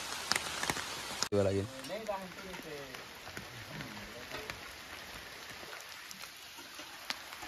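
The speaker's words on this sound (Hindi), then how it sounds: "खतरनाक वाला वर्षा" Heavy rain falls steadily during a Sambalpuri wedding procession, a soft constant patter under people talking nearby, with a few louder knocks and clatters early on.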